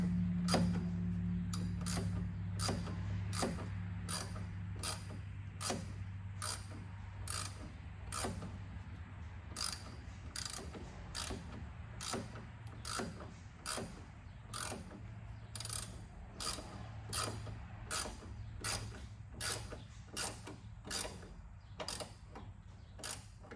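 A hand ratchet tightens a fender bolt on a Jeep JL Rubicon during an aluminum inner fender install, a long run of quick, evenly spaced metallic clicks with brief pauses between strokes, close and fairly quiet, with no talking.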